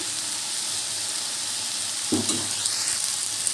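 Amaranth leaves (thotakura) fry in a pan with a steady, close sizzle throughout, sharpened by a brief stirring scrape partway through; no voices.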